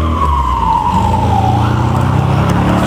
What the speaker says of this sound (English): sirens running through.